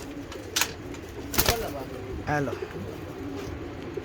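Champion pigeons coo in short bursts near the listener, with a couple of sharp clicks and a brief wing flutter, while someone speaks briefly.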